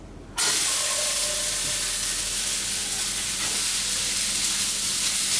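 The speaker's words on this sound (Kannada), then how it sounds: "ಒಗ್ಗರಣೆಗೆ ಒಣಮೆಣಸಿನ್ಕಾಯಿ ಹಾಕಿದೆ." Dried red chillies hit hot oil for a festival tempering: after a brief quiet the loud hissing sizzle bursts in abruptly and keeps going steadily, close up, with no talking.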